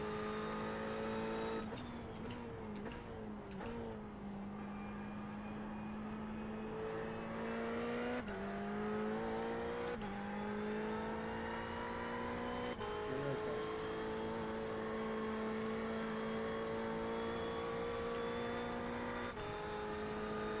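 Several GT3 race car engines in iRacing rev and hold steady rising and falling drones, with gear-change dips and brief revving bursts as cars run side by side, loud and continuous throughout.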